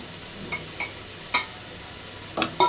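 Cashews stirred into carrot halwa in a pan, heard as a handful of soft, separate scraping and clinking strokes of a spoon over a faint low hiss, close and quiet.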